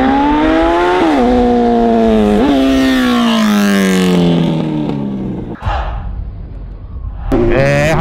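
A Honda Hornet 900cc motorcycle engine roars loudly up close, revving and then winding down in long falling sweeps, cutting off briefly and revving again near the end.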